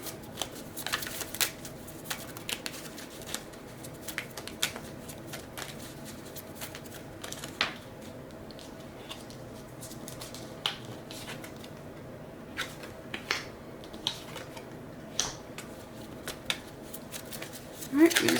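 Playing cards shuffled and dealt, a steady run of soft riffling flicks and sharp snaps spread through the whole stretch, with faint murmured voices underneath.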